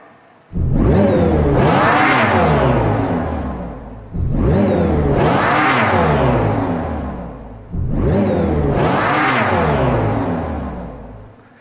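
Three separate rising-and-falling electric motor whirs from a Dodge Charger Daytona SRT concept electric muscle car, each a loud synthetic roar that swells then fades, like a powerful car revving.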